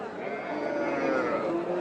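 A big bull at a busy cattle market in Panchagarh gives a sustained low moo over steady crowd noise and background chatter.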